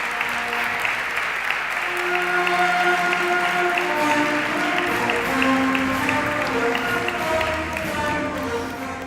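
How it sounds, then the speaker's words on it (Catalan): Sustained, loud crowd applause sends off Tomàs Sanchis at the 2017 Biar town festival presentation, continuing steadily for the whole stretch with a faint tonal hum running beneath the clapping. "Demanem un fort aplaudiment per a despedir a Tomàs Sanchis."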